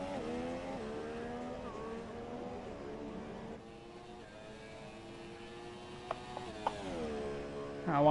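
Race car engines in the F1 2017 video game, a high whining drone with rising and falling gear sweeps, steady and moderately faint, with a few sharp clicks near the end.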